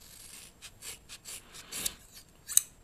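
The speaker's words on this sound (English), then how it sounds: "So let me just cut it over here." Scissors snip through the hair of a man's toupee in a series of short, close crisp cuts at an uneven rhythm, ending in a sharper final snip.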